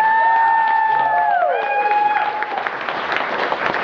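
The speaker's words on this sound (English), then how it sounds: "Give them a round of applause." A convention audience at the Glitch Con 2011 closing ceremonies claps loudly, with whoops and high cheers rising over the applause before it settles into sustained clapping.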